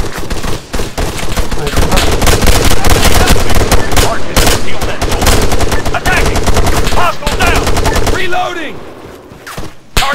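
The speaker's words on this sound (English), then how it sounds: "Nichols, fire at that soldier, front!" Sustained gunfire in the military shooter game Arma 3: dense, loud bursts of rapid rifle and machine-gun shots crackle almost continuously, with radio-style callouts mixed in, before the firing thins out near the end.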